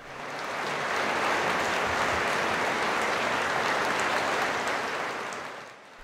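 Strong, dense applause from a concert audience at the close of a fado singer's concert, a sustained wash of clapping that builds quickly, holds steady and fades at the end.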